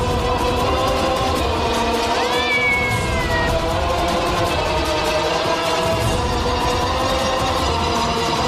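A cat meows once in a rising, wavering call that stands out clearly, set over a steady, loud background hum with no voices.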